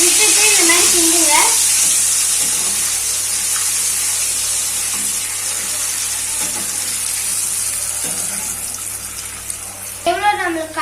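Nendran banana chips frying in hot oil, a loud continuous bubbling hiss close up, with stirring clatter near the start and end.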